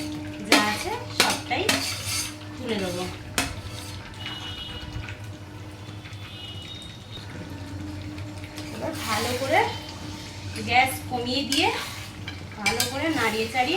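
Chicken wings turned into a spice paste in a pan, clinking utensils and scraping spoon strokes over a low sizzle, with bursts of metal-on-metal stirring toward the end.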